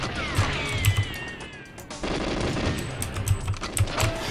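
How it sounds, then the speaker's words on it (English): Gunfire in GoldenEye 007, with several sharp shots popping in the corridor amid a loud, busy game soundscape, some rapid in succession and others spaced apart. "Where was that shot coming from?"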